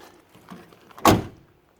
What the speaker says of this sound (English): You hear that? That door shut nice.